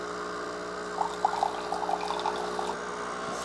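An Instant 2-in-1 multi-function coffee maker and espresso machine in descaling mode pushes water through with a steady pump hum and soft gurgling, trickling spurts, close and moderately loud with no talking.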